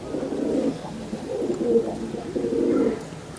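Soft, low cooing of a breeder pigeon repeats in a few throaty bursts, close and steady, with no talking.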